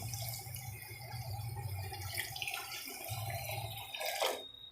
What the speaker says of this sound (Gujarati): એમાં ગરમ પાણી નાખશું આપણે થોડું